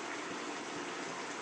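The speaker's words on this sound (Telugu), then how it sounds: "కొంచెం వాటర్ వేసా." Water poured into a pan of simmering cauliflower and tomato curry makes a steady, close gushing splash that holds at an even level for its whole short length.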